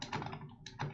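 Rapid typing on a computer keyboard, several quick bursts of clicking keys close to the mic, with a brief pause midway and no voices.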